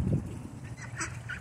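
A young duck, between duckling and adult, gives a few short, nasal honking calls at close range with no talking.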